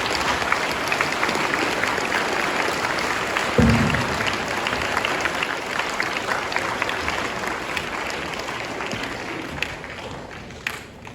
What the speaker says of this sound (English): let's give a great round of applause for Bernie.